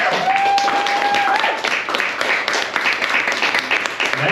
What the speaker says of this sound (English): A round of applause for Alex Jennings.